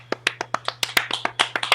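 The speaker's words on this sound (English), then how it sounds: "how about a nice round of applause by me for Pam" A short burst of hand clapping at a casting director workshop as a student is brought on, a steady string of crisp, close claps with no talking.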